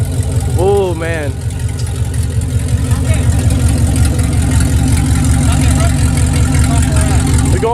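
A loud truck engine idles with a steady deep rumble close by, and a voice is heard briefly near the start.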